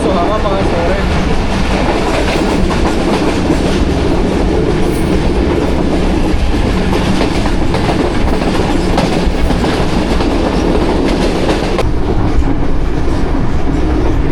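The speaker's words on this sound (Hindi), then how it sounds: "तरक्की रेलवे स्टेशन से ट्रेन हमारी पास हो रही है" Jaffar Express passenger train running through a railway station, a loud, steady roar of wheels and carriages with clickety-clack rhythm holding for the whole stretch, close by.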